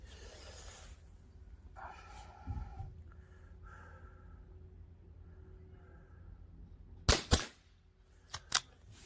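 A Marksman air rifle firing pellets, heard as a few sharp cracks near the end: one close pair of shots followed by two quicker, quieter ones, over a quiet outdoor background.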